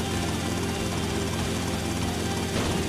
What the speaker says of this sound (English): Oh, there's a helicopter on top of my roof?